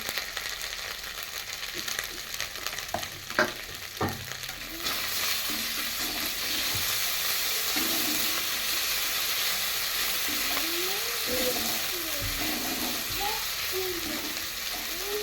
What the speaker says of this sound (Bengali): এবার মশলাটা ভাজা হয়ে গেছে।